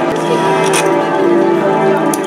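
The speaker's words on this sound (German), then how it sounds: "bis solange die wunderbaren Glocken läuten" Church bells ring continuously and loudly, a dense sustained clangour during a street demonstration in Stuttgart, with someone speaking over them.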